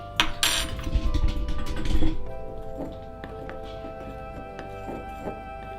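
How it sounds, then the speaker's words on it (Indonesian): A sweet batter with baking soda and salt being stirred in a bowl, with clinking and scraping of a utensil against the bowl, louder at first and then quieter with faint taps. "Kita aduk."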